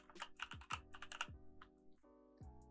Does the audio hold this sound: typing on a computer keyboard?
yes